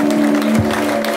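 A church congregation claps in praise of God, a brief burst of dense, steady applause over a low electrical hum.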